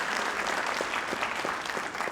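An audience applauds at a Dean's List recognition ceremony, a dense, steady patter of many hands clapping at moderate distance, with no talk over it.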